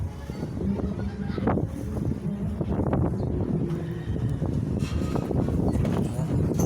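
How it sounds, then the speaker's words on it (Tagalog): Strong wind roars steadily across the microphone, a constant rushing buffet with gusty low rumble throughout. "Sobrang lakas ang hangin dito guys."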